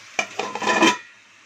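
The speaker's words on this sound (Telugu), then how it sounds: "బాండి మూత వేస్తున్నానండి." A metal lid clatters onto a kadai of simmering Godavari-style crab curry, giving a few close clanks and a short rattle before quiet.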